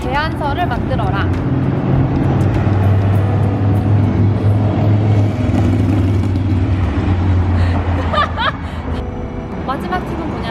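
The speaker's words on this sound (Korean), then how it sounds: "하려고 하면 차가 지나가." A car passes by outdoors, a broad steady low rumble of engine and tyres lasting most of the stretch, heard under continuous talking.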